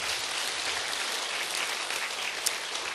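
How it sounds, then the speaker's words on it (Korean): A church congregation claps together at the close of an afternoon session of a regional evangelism camp, a dense, steady wash of applause filling the hall for the whole stretch. "우리 하나님께 영광의 박수를 돌려드리겠습니다."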